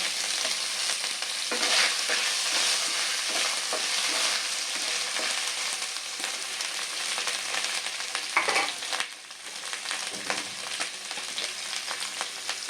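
Ginger and tomato sizzle steadily in a pan for a vegetarian fig dish, a dense continuous frying hiss with occasional stirring scrapes and no talk.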